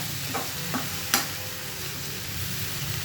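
Vegetable curry with flat beans and potato cooking in a pot on the stove, a steady soft sizzle and bubble with a few faint clinks of a spoon against the pot, no voices.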